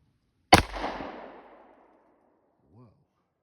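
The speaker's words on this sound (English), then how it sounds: "The SIG, I'm going to be shooting at the white dot." A single sharp SIG Sauer pistol shot cracks out close by and echoes away over about a second, followed by a faint short vocal sound.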